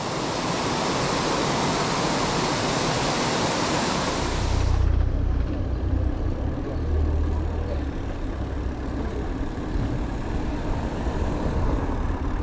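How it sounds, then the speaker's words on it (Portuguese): A small waterfall beside a road in Rancho Queimado, Santa Catarina, Brazil, gives a steady, loud rushing hiss of falling water that shifts to a deeper roar partway through. "Cachoeirinha aqui."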